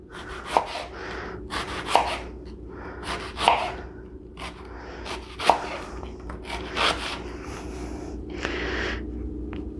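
A knife chops onion on a wooden board in a kitchen while a potato salad is being prepared, with a run of sharp, distinct cuts spaced irregularly over a soft rubbing, scraping background.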